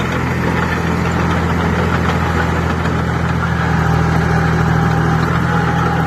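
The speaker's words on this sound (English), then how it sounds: "42 whopping horsepower of a non-turbocharged 3-cylinder John Deere engine." A dozer's non-turbocharged 3-cylinder John Deere diesel of 42 horsepower runs steadily nearby, a loud, constant low drone with a knocking throb and no talk.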